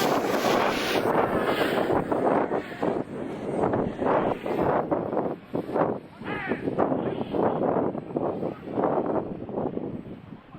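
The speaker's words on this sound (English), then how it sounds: "It is very windy." Strong wind roars and buffets the microphone continuously outdoors during drone flying, with gusty rumbling throughout and a voice talking underneath.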